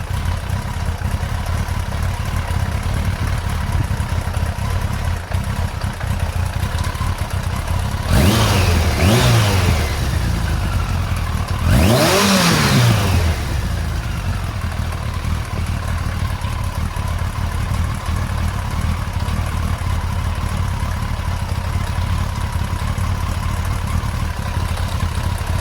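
A Yamaha XJ900S Diversion motorcycle engine idles steadily while its carburettors are being balanced, then is revved twice in quick succession, each rev climbing sharply and falling back to a smooth idle, close and loud.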